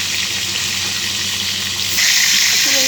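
Pointed gourd (potol) fries in hot oil with a steady loud sizzle that grows stronger partway through, close and continuous.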